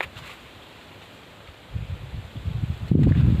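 Wind blows through leaves and vegetation outdoors, first as a faint hiss and then as a rising rustle with low gusty buffeting that grows louder toward the end.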